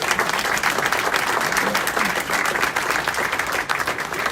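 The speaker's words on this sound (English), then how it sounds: "Let's give her a round of applause." An audience at a hospital ceremony hosting U.S. Army training welcomes a commanding general with sustained, thick applause from many people, steady and unbroken from start to finish.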